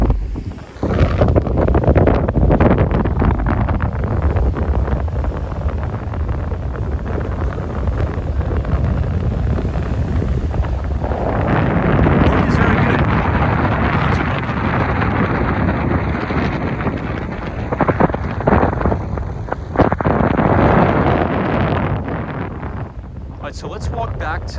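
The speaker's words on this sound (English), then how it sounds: "It is definitely very windy." Strong gusts buffet the microphone at Sunny Isles Beach, Miami, a loud, continuous low roar that swells and eases throughout while someone talks faintly underneath.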